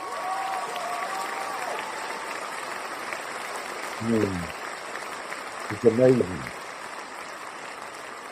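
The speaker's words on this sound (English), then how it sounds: "gotta give it applause for the mama." Steady crowd applause runs as a soft, even wash throughout, while someone speaks briefly over it in two short bursts.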